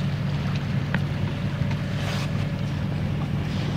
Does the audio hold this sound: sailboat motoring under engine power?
yes